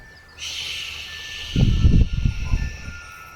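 A steady breathy hiss runs through the clip, joined midway by a few low rumbling bursts, a voice imitating a fire extinguisher spraying.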